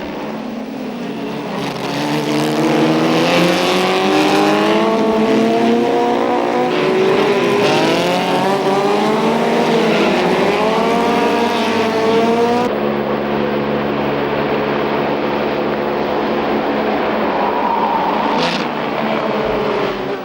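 Vintage race cars, a Lotus 15, a Lola MK2 Formula Junior and a Lister Jaguar, roar past a bend in the 1989 Grand Prix de l'Age d'Or, engines rising and falling in pitch as they pass loudly, followed by a steadier engine drone.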